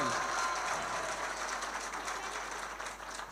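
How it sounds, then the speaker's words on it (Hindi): Audience applause at a mushaira poetry gathering, a continuous dense patter of many hands clapping at even loudness from start to finish, with no clear voice on top. "भाई शेर का जोरदार तालियों से पूरा मजमा पहले इस्तेकबाल करें"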